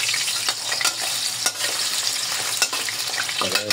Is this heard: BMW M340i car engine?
no